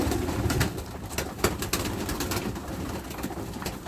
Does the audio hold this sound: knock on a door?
no